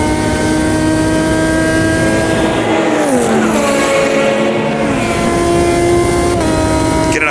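A 2005 GT1 race car at Spa in Automobilista 2 screams loud and close, its engine note rising through the gears, dipping under a downshift midway, then climbing again with a sharp shift near the end.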